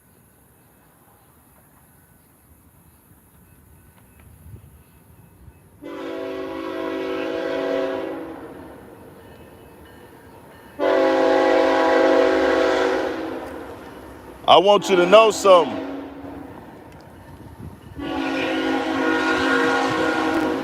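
A train rolls past with three long, loud blasts of its horn, separated by quieter rumbling gaps and a burst of rattling clatter between, while someone speaks briefly.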